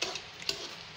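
Red palm oil is spooned into a pot for Nigerian vegetable soup, giving a short soft scrape and sizzle with faint clinks, close and quiet, with no voices.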